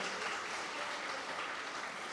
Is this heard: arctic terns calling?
no